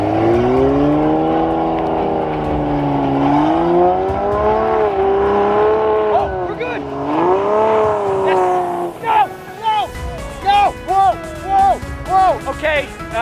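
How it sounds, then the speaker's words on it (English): A car stuck in snow revs hard and steadily while being pushed, its engine pitch climbing and dipping, then breaking into short, choppy bursts near the end. Loud and close. "pushing my car because it's stuck in the snow."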